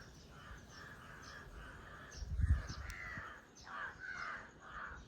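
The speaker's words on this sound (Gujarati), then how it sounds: "ડખા લાગે, કાગડા નેટમાં ડખા છે." Several crows caw and squabble near a net in the morning, with repeated harsh calls in uneven bursts, moderately close, over a faint low background rumble.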